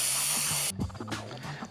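Aerosol spray can applying a texture coating, a steady loud hiss for most of the second before cutting off, followed by faint handling noises.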